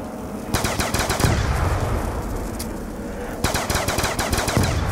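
Gunfire in a zombie video game: two rapid bursts of automatic shots, each lasting about a second, separated by a quieter stretch with a single isolated crack, loud and close.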